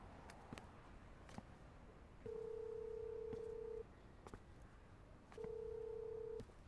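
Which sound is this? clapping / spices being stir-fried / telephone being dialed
telephone being dialed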